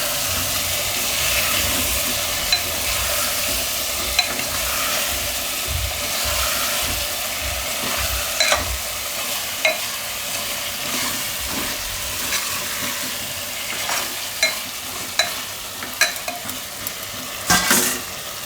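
Onion and baby potato curry being stirred in a hot pan, a spoon scraping and clacking against the metal at irregular intervals over a steady sizzle, close and fairly loud.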